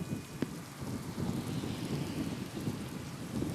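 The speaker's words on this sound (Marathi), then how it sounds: "मुंबईत खरं तर पहाटेपासूनच मुसळधार पाऊस पडतोय" Heavy monsoon rain pours down in Mumbai under an orange alert, a dense, steady wash of downpour with low rumbling gusts and a few sharper spatters, heard alone without any voices.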